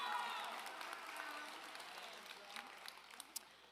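Graduation ceremony audience applauding a teacher, the clapping fading and thinning out over a few seconds, heard from a distance with a few sharper claps near the end.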